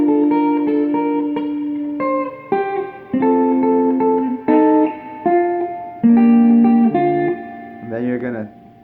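An electric guitar plays the Family Guy theme riff with effects, a series of distinct picked notes and sustained chords in a bouncy rhythm, ending on a wavering bent note, with no talking over it.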